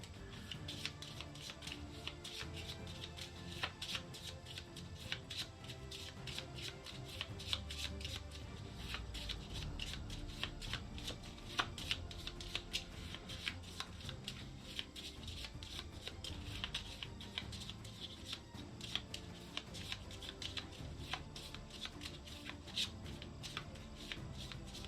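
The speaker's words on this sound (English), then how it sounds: "The duelist needs to shuffle real quick." A deck of cards being shuffled repeatedly for the Thunderstone Quest board game, a long run of quiet, rapid riffling and card flicks close by with faint table handling noises.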